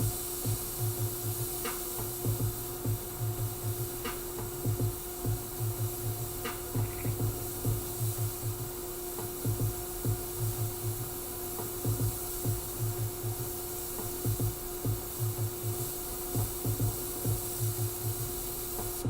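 An airbrush sprays paint onto a skull design, held close with little overspray, giving a soft, steady hiss over a low pulsing hum, with faint taps and no speech.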